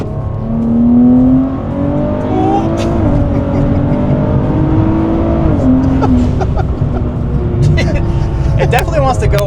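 A turbocharged Nissan Z making over 600 wheel horsepower pulls hard through the gears from third on an empty road, its engine note rising in steady sweeps under an ongoing voice from inside the cabin.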